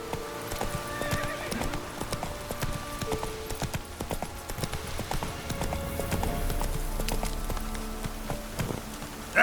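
Roach the horse gallops in The Witcher 3: a fast, rhythmic clip-clop of hooves with a neigh, under light rain, close and steady throughout.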